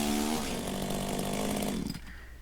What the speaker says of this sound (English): The sound of the chainsaw stopped at the same time.